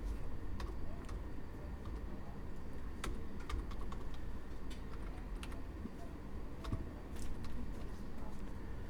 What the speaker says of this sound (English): then you're going to type in r squared